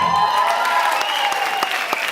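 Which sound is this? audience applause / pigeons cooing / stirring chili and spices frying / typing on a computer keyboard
audience applause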